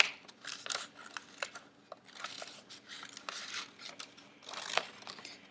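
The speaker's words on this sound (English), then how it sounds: "Cut a slit and cut the eye out." Scissors snipping eye holes in a paper mask, quick bursts of small close cuts and crinkling paper in an irregular rhythm, fairly faint.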